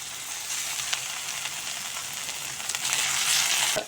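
Ginger-garlic paste and cashew paste frying in a hot pan for rohu fish kalia, giving a steady, close sizzle that swells louder toward the end.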